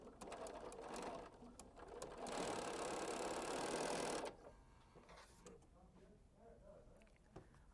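Sewing machine stitching quilt block pieces together, one short burst then a longer steady run of rapid whirring, fairly faint, with a voice talking over parts of it.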